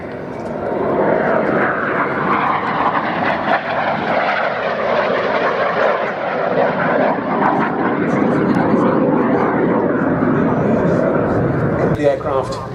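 An aircraft with wingtip-mounted fuel tanks flies at the 2019 Duxford Air Festival, its engine a steady, loud roar that lasts throughout while a commentator talks over it.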